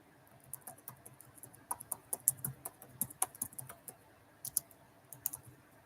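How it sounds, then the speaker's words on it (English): Quick bursts of keystrokes on a computer keyboard, irregular clicks and taps clustered in short runs, close and fairly quiet with no talking. "I'll type it here."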